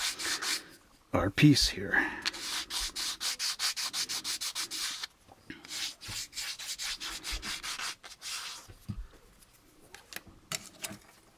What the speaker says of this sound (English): take our sandpaper here and just sand them off until they're nice and level with the rest of